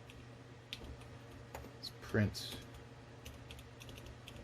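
Typing on the keyboard of a homebuilt cyberdeck computer gives a few scattered clicks, with a short cluster of keystrokes in the middle, while a person speaks briefly.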